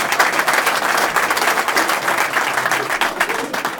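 Audience applause at a public announcement about funding a rail trail in Ulster County, a steady wash of dense clapping filling the whole stretch at moderate loudness with no speech over it.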